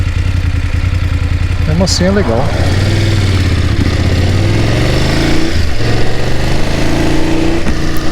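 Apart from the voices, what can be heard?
BMW F750GS motorcycle engine running, sounding rough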